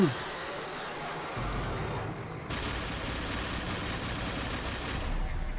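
Dense, sustained rapid gunfire from the video game Dark Sector, loud and continuous with bursts layered over a low rumble, no pauses for several seconds.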